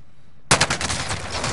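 Sudden loud burst of gunfire in Call of Duty Warzone, Verdansk map, a sharp onset followed by a rapid rattling volley that continues steadily to the end.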